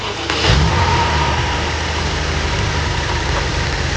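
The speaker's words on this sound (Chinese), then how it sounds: "现在我们听到的是发动机正常工作的声音" BMW X5M with an S63 engine idling just after starting, a loud, steady low rumble that swells briefly at the start and then settles into an even idle, close by with no talking.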